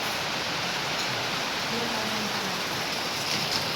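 Steady rain falls outdoors during a break from tiling work, a constant soft hiss with no distinct drops or voices standing out.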